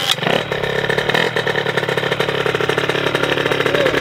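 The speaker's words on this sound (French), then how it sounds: "Allez les gars, démarrage de la 50 de cross." A 50cc motocross bike engine, set up as a supermoto, is up close and loud, catching from cold with a rapid popping two-stroke putter that settles into a steady, uneven idle.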